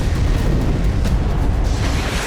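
Shelling explosions in Belgorod, Russia roll in as dense, rumbling booms with sharp bursts, loud and continuous over a short stretch with no speech.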